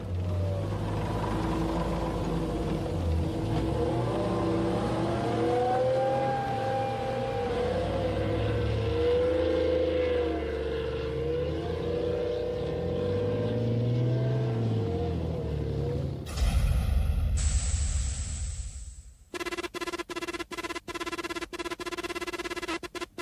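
A Chieftain army tank driven hard, its engine laboring in a loud, steady, wavering drone with shifting pitch, then abruptly replaced by harsh mechanical bursts and rapid rattling clicks.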